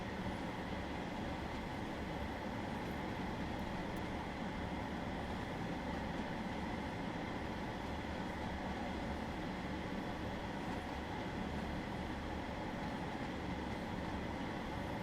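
Train in West Cornwall, running between Penzance and St Austell in Train Sim World 3: a steady, continuous rumble of rolling wheels and motor, even and loud throughout with no voices.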